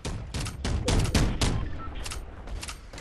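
Rapid gunfire in a Fortnite match, several loud bursts of shots in quick succession, close and punchy with short gaps between them, then fainter shots trailing off.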